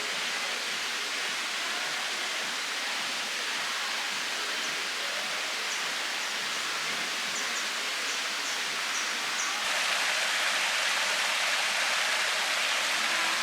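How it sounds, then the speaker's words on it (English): Steady rushing water pours without pause from a small resort waterfall at Holiday Inn Resort Samui, Bophut Beach, Koh Samui, a constant close, unbroken wash of splashing with a slight rise in volume near the end. "It's even got a little waterfall."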